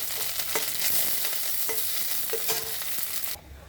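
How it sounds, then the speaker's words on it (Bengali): Neem leaves frying in a pan, a steady close sizzle broken by a few scraping stirs, cutting off abruptly near the end with no voices. "নিম পাতাটা তো আমার ভাজা হয়ে গেছে"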